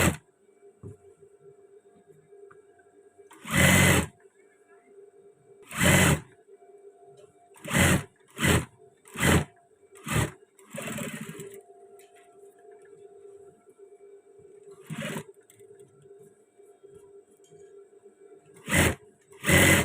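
A sewing machine stitching a Korpri men's shirt, with a steady motor hum and repeated short, loud runs of stitching separated by pauses.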